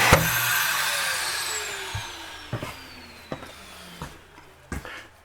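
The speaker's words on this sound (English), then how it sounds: "Your vacuum, all you simply do is lift that" Built-in central vacuum in a Jayco Northpoint 381DLQS fifth-wheel RV running with a steady broadband whine that slowly falls in pitch, close by, with several short sharp knocks and clunks over it.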